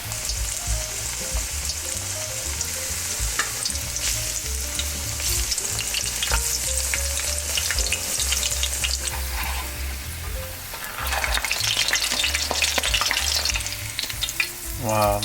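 Grated Filipino shrimp fritters, ukoy, frying in hot oil, heard as a loud, continuous crackling sizzle with occasional stirring and scraping, swelling into a brighter burst toward the end.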